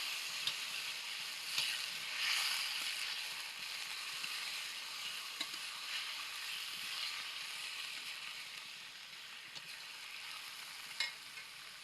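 Large pieces of rohu fish fry in a pan while being stirred, a steady soft sizzle with occasional faint scraping clicks, quiet and without talk.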